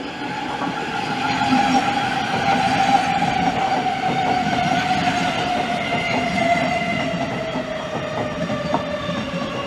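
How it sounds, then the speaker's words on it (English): A Thameslink passenger train rolls steadily into Gillingham station, with a continuous rumble, faint wheel squeal, and a tonal hum that slowly drops in pitch. "now arriving in is 9 Papa 40, the 1434 Thameslink service from Rainham to Luton"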